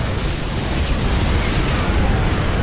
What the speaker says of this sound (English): Alright, we used the nuke.